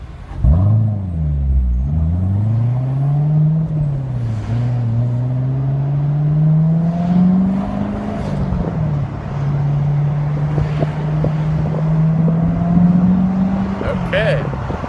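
C7 Corvette driven with the top down, its engine note climbing steadily as it accelerates toward the 5,500 RPM redline, a continuous close drone under wind rush.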